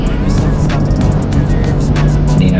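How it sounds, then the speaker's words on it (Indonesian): A bus passing on a southern trans-Java road near Pracimantoro, its engine rumble steady and loud alongside other traffic for the whole moment, with a voice talking over it. "ini ada bis Abdullah"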